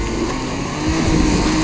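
A 3.5-litre Lexus off-roader pushes through a small creek, breaking ice, its engine droning loud and close under grinding, crunching noise for under two seconds.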